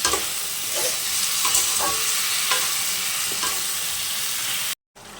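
Ridge gourd curry being stir-fried in a pan: a steady close sizzle of frying with repeated scraping and stirring strokes of a spatula, continuous until a brief cut near the end.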